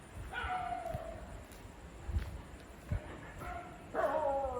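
Several dogs bark and yip from a short distance outdoors, a few sharp whining barks spread across the stretch with quieter gaps between, over a low background hum.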